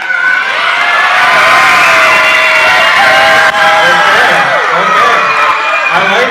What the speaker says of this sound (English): let's see how loud of a cheer we can give